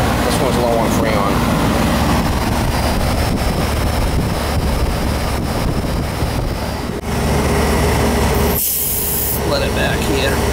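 A residential central air conditioning unit, low on Freon with low suction pressure, runs steadily with a loud broadband whir and fan rush throughout, while refrigerant gas is fed in on the suction side; people talk over it.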